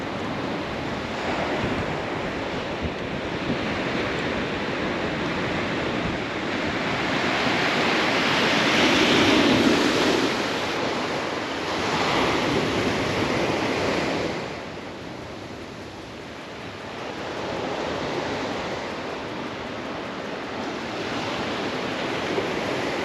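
Open ocean waves break on a beach with a continuous loud roar of surf that swells and fades in long surges, mixed with wind rumble across the microphone and no talking.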